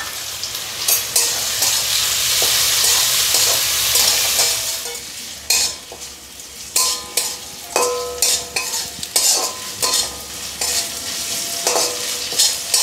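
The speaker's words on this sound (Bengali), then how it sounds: "চিংড়ি মাছ দিয়ে আমি অল্প অল্প করে ভেজে নিয়েছি" Salted, turmeric-coated prawns fry in a pan with a loud, steady sizzle, broken later by a rhythmic run of scraping stirs.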